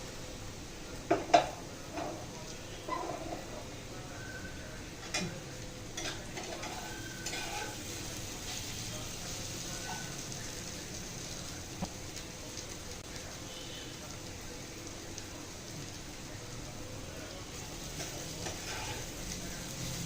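Okra (dherosh bhaji) fries in a pan with a soft ongoing sizzle, broken by clinks and scrapes of a utensil stirring against metal, louder knocks near the start, and talking at moments.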